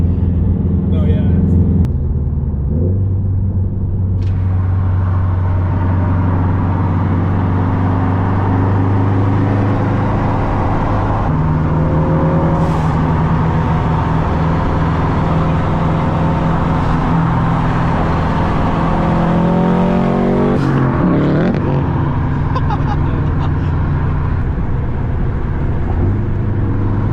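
Loud Subaru STI driving hard on city streets, its engine droning and rumbling steadily throughout with shifting revs, while people talk over it inside the car; distinct exhaust pops are not clearly separable.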